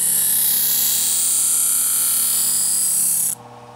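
A knife blade is ground and sharpened on a waxed grinding wheel, a loud steady high-pitched whirring that runs continuously up close and then cuts off abruptly, leaving a low motor hum.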